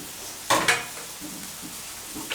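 Tomatoes softening in a pan over low heat for Thai northern chilli paste, with two sharp clattering stirring scrapes near the start and then quiet, faint sizzling and occasional soft stirring.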